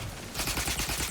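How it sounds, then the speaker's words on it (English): Rapid automatic gunfire from the video game The Outer Worlds 2, a dense, loud burst of overlapping shots lasting about a second with no gaps. "The shooting is very smooth."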